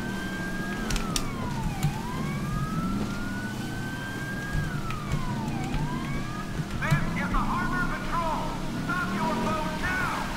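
A police siren from the game GTA 5, sounding repeated rising-and-falling wails that sweep up and down, then switching to a faster yelping pattern near the end, steady and fairly loud over engine and water-like background noise.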